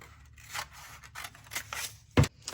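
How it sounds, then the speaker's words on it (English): Quiet scissors snipping through a paper bag in several separate cuts, with soft crinkling between strokes and one louder, sharper snip near the end. "Now you could also choose to do this with your scissors if you would like a straight cut."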